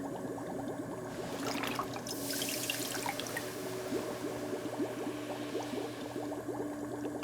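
Steady rushing water of a waterfall in the video game Cairn, a continuous dense splashing wash that holds at an even level throughout with no talk.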